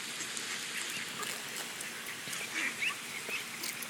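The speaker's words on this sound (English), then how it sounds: "And the mallards, the green-headed ones, are a little more aggressive." Ducks, including green-headed mallards, calling outdoors, a few faint quacks and honks scattered over a steady background rush, fairly distant and soft.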